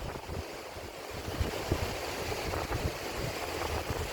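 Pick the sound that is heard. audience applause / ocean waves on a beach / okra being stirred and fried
ocean waves on a beach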